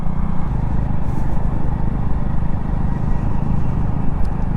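A Hero Splendor Plus XTEC motorcycle ridden by two people through a village makes a loud, steady engine rumble with heavy wind buffeting, heard up close throughout.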